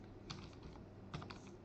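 Computer keyboard typing, a few soft key clicks in two short clusters, close and quiet with no voices.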